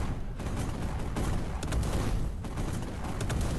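Tanks in the game Tank Arena Steel Battle trading rapid, overlapping gunfire, a steady rattle of shots and muffled blasts running throughout at moderate level, no voices heard.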